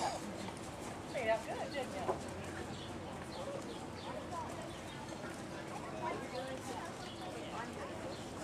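A 2004 AQHA and APHA double-registered gelding jogging in an arena, its hooves giving a soft rhythmic clip-clop, faint and low under background noise with occasional bird coos.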